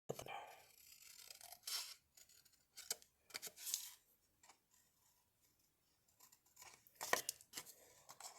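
Scissors snip through candy bar purse pieces in short, crisp, irregular cuts, close and fairly quiet, with brief pauses between strokes and no speech.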